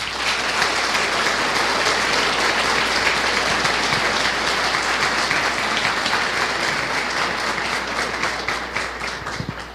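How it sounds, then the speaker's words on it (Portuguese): An audience at a spiritist lecture welcomes lecturer André Marouço with a long, dense round of applause, even and sustained before easing slightly at the end. "a quem nós vamos receber agora com uma salva de palmas"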